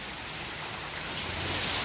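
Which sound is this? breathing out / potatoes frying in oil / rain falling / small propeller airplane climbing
rain falling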